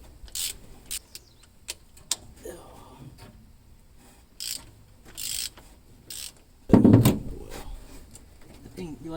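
A ratchet clicking while spark plugs are pulled from a 1951 Ford F100 engine after 14 years of sitting: scattered close metallic ticks and pawl clicks, then a louder clunk of tool or plug near the end.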